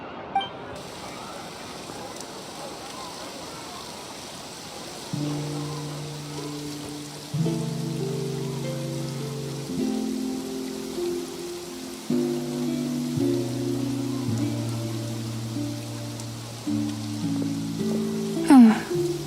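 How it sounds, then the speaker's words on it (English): Steady rain falls in the Fontaine region of Genshin Impact, a continuous patter and hiss with soft drips that runs the whole time. Layered tonal game music enters partway through and carries on beneath the rain. "Looks like rain."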